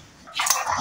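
A domestic dog gives a single short, close bark that rises sharply and then trails off, with nothing else around it.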